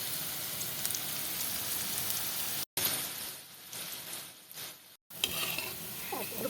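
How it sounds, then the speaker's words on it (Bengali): Karkol pur pitha frying on its other side in hot oil, a soft steady sizzle with light crackles, briefly cut by two short gaps of silence, no talk. "এইভাবে করে অপর পিঠটাও আমি আরেকটু সময় ভেজে নেব"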